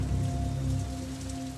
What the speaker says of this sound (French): Ce sont tous les morceaux de roche qui retombent.